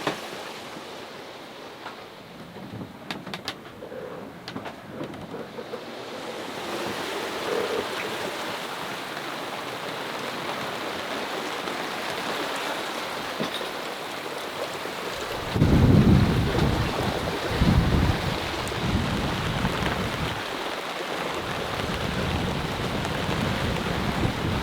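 Wind and rain sweep across a sailboat cruising at sea, a steady hiss and rush that grows heavier midway, with strong low wind buffeting on the microphone near the end.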